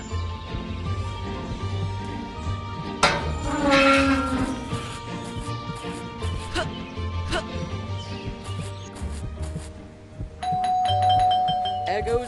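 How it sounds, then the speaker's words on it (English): A doorbell in the video game Scary Teacher 3D rings out sharply several times over game music and effects, with a later chime near the end; the rings are clear and prominent. "Goes that stupid bell again."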